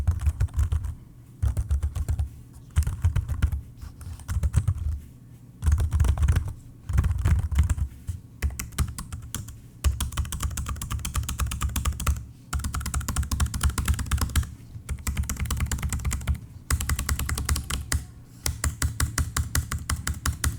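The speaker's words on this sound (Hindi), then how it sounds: "इसी माइक को मैं यूज करके आपको इसका कीबोर्ड का नॉइज पूरा सुना दूंगा।" Typing on an ASUS Marshmallow KW100 keyboard, a steady close run of soft key clicks in bursts with brief pauses between them, with no voices.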